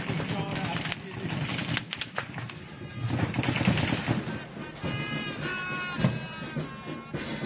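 Bursts of gunfire crackle in rapid, irregular volleys at a military parade, sharp cracks mixed with shouting voices and scattered commotion at moderate distance.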